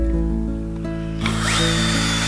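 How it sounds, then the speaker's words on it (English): A power drill bores holes into the corners of a wooden box, its motor whining steadily, then rising in pitch as the bit bites in. It is loud and close, with no voices. "Then you need to drill two holes on each corner in a diagonal fashion."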